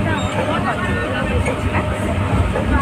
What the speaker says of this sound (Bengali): কৃষ্ণনগর লোকাল প্ল্যাটফর্মে আসছে 12 কোচের গাড়ি